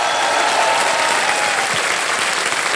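Studio audience applause on the KBC quiz show set, a dense, steady roar of clapping hands that fills the room loudly and evenly from start to finish, with no voices over it.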